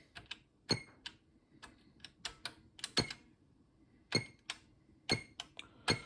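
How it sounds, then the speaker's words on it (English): Keys on a BYTE home computer keyboard pressed slowly and deliberately, giving a series of separate sharp clicks and taps with uneven gaps, close to the microphone and quiet, with no talking. "You got to type slowly on the keyboard"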